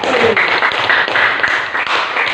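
A classroom of students applauds, a loud, close, continuous patter of many hands clapping steadily throughout with no break.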